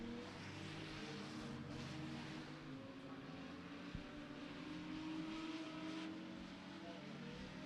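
Race cars in a late-race enduro feature at Beckley Motor Speedway drone steadily at a distance, a dense blended engine roar that holds even throughout.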